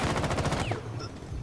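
Automatic gunfire in Rainbow Six Siege: a rapid, loud burst of shots for about half a second, then a fading tail and quieter in-game noise.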